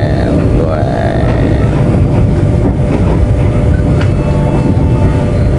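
Ranggajati executive train slowing on approach to Sragen station, a steady loud rumble of wheels and carriage noise with faint squeals and clatter throughout.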